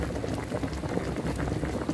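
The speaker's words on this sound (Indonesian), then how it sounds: "Ini aku kasih santannya" Coconut milk pours into chicken cooking in a pan, a soft, steady bubbling and liquid wash heard faintly and close, with no voices.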